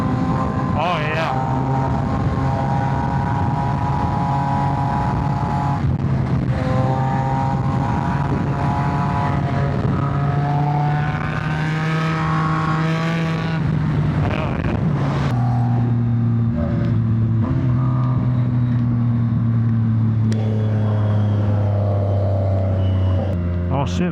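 Several motorcycles in a large group ride cruise along a highway, engines droning steadily and rising and falling in pitch as bikes pass close by, with wind noise and occasional talk over the top.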